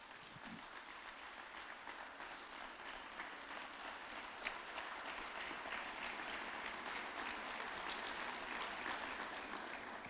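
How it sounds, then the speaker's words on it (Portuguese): A church congregation at a communion service claps for Jesus, a continuous even wash of applause sounding somewhat distant and soft throughout. "Vamos dar uma salva de palmas para Jesus."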